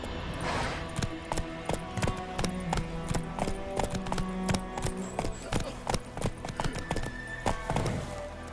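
Roach, the horse in the video game The Witcher 3: Wild Hunt on PS5, gallops with quick, rhythmic clip-clop hoofbeats, close and loud, with a whinny near the start and game music underneath.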